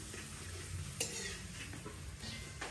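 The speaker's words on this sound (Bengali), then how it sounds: "এই যে পাঁপড় ভাজছি" Papad frying in oil on a homemade rooftop stove, a steady close sizzle with faint stirring and a sharp clink near one second.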